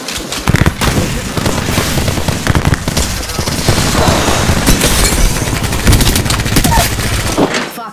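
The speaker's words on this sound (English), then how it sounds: "Opening fire." Gunfire in the Apex Legends video game, loud rapid automatic bursts and cracking shots that run for about eight seconds, with a voice heard faintly under the firing.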